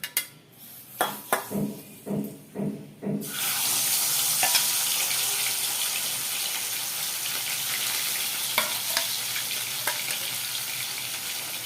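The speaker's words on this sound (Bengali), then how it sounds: "সর্ষের তেল দিয়ে এবার এই মাছগুলোকে দিয়ে দেবো" Small carp go into hot mustard oil in a pan. A series of clinks and knocks comes first, then a sudden loud, steady frying sizzle takes over and continues close by, with a few faint utensil taps.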